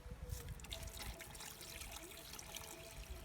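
Water trickles steadily in a rural outdoor kitchen where quail egg gravy is cooking, a continuous soft splashing that runs through the whole moment with no talk over it.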